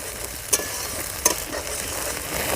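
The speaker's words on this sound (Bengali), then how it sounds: "এবার পেস্ট করে রাখা মশলাটা দিয়ে দেবো মশলাটা ভালো করে কষিয়ে নেব" Spice paste for matar paneer sizzles and fries steadily in a pan, with a continuous hiss and two brief scraping stirs, no voices present.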